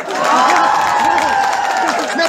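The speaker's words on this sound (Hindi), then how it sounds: "ताली बजाओ" An audience at a comedy event claps and cheers for a few seconds, a dense wash of applause mixed with shouts and a voice speaking over it.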